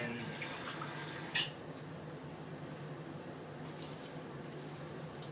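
Water poured into a pot of ground pork for a Filipino ginisa, a continuous splashing, trickling flow with one brief sharp clink partway through.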